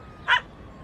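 A single short dog bark or yip rings out once, fairly close, against a low steady background, set within a Moroccan comedy film.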